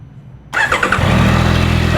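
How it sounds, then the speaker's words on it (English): A Yamaha YZF R9 motorcycle engine cranks and fires after a quiet start, catching into a loud, steady close idle that keeps running, with faint background voice before ignition. "fire up our motorcycle and we're gonna let it run for about 5 minutes just to get that engine oil nice and warm"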